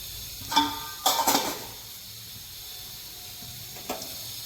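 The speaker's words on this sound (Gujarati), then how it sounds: "તો એ જ તેલમાં આપણે વઘાર કરીશું." Mustard seeds and cumin tempering in hot oil for bhindi masala gravy: short crackling bursts of popping seeds over a low hiss, with a final small burst after a quieter stretch.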